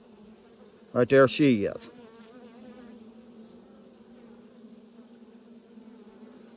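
Honeybees hum steadily and softly at an open hive during an inspection on a farm. The drone runs throughout, and someone speaks briefly over it near the start.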